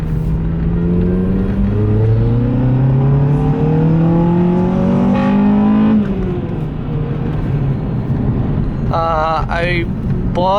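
The engine of a 1991 Acura Integra with a newly fitted exhaust and lightened flywheel revs up in rising sweeps, then the revs fall quickly back toward idle, loud and close.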